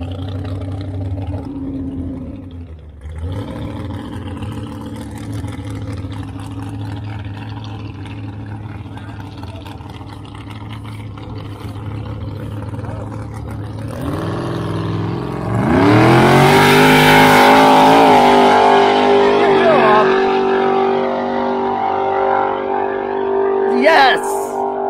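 A Chevy S10 pickup truck engine revs hard during a burnout competition, starting with a low idle-like rumble and climbing to a loud, roaring high-rev surge, with crowd voices and shouting mixed in.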